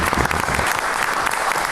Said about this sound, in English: This is all him. Give him a round of applause.